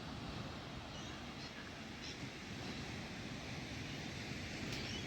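Ocean surf rolls onto an Australian beach as a faint, steady wash of noise with light wind, distant and unbroken, with no one speaking.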